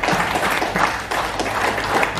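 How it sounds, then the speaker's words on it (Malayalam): An audience at a business club event applauds in a dense, steady wash of clapping that carries on loudly throughout without a break. "ശരിക്കും നമുക്ക് അതിനുവേണ്ടി ഒരു ക്ലാപ്പ് കൊടുക്കാം കീസോളിന് വേണ്ടി"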